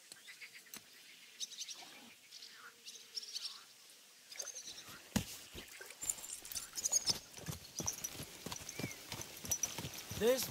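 Horse hooves clip-clop in Kingdom Come Deliverance 2, a steady run of sharp, close hoofbeats that starts sparse and quickens, with birds chirping faintly around them.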